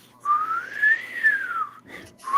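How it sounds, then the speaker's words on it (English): A person whistles one long, clear note that rises and then falls over about a second and a half, close to the mic, then starts a brief second whistle at the end. "I whistled and she showed up."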